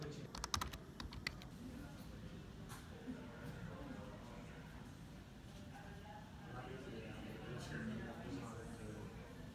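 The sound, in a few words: typing on a computer keyboard while transcribing sound bites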